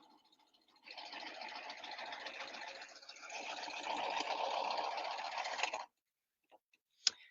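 A sewing machine with a plain hemmer foot stitching a hem, a steady buzzing run of about five seconds with a short dip in the middle, then a couple of faint clicks after it stops.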